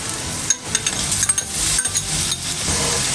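Mushrooms tumble into a pan of lightly cooked onions and sizzle loudly, with a steady frying hiss and a few clinks and stirring knocks, alone without talk.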